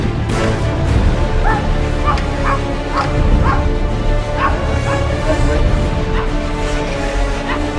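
A person on a French film set imitates a dog with a series of about eight short rhythmic barking yips, close and loud over a constant background hum.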